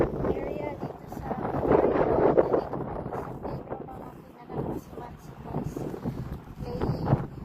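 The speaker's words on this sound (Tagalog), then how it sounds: "mahangin na araw ngayon dito sa ating" Gusty wind buffets the microphone outdoors on a windy afternoon, a loud rumbling roar that swells and eases in waves while a person talks over it.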